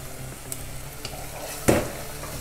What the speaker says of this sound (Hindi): इसको थोड़ा सा भून लेते हैं इसको लाइट ब्राउन करना है